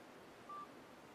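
A phone set to meeting profile gives a single short, faint electronic beep for an incoming call instead of a full ringtone, over quiet room background.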